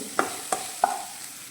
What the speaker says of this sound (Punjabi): ਜਿਹੜੇ ਇਹ ਮਸਾਲੇ ਨੇ ਹੁਣ ਆਪਾਂ ਇਹਨਾਂ ਨੂੰ ਹੀ ਭੁੰਨ ਲੈਣੇ ਆ